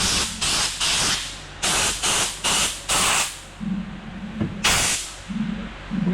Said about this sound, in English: We're gonna let that gas off for a bit